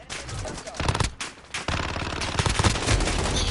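Rapid bursts of automatic gunfire in the shooter Call of Duty: Warzone crackle loudly and close, with a brief lull before the shooting resumes and continues densely.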